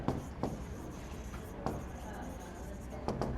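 Pen scratching out a class 5 averages math solution on paper, steady close scribbling with a few sharper taps and strokes between, no talking heard.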